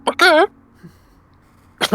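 A voice mimics clearing the throat with short, rough bursts, pausing briefly before a final rasping sound.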